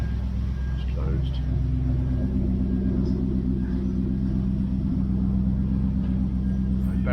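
A 1971 Triumph Stag engine idles steadily just off choke, a loud, even low rumble running unbroken throughout with faint clicks above it.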